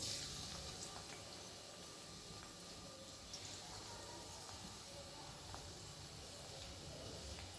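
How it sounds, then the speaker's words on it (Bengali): Garlic sizzling in mustard oil in a wok, a steady, soft frying hiss with faint crackles scattered throughout, close and continuous. "দেখুন রসুনটা ভাজা ভাজা হচ্ছে"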